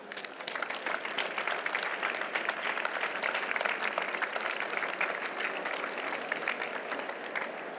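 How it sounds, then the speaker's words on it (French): Warm, sustained applause from an audience at an anniversary event of the international "4 per 1000" Initiative, a dense even patter of many hands, moderately distant, steady for several seconds with no talk. "Merci donc de vous joindre à moi pour remercier toutes ces personnes dans les applaudissements chaleureusement."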